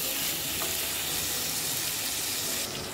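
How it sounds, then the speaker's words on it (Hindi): Chopped tomatoes frying in masala for kadai paneer, a loud, steady sizzle that fills the whole stretch with dense crackling hiss, no voices. "अब हम इसमें दो कटे हुए टमाटर डालेंगे। हमें टमाटर तब तक भूनना है जब तक ये पल्पी ना हो जाए।"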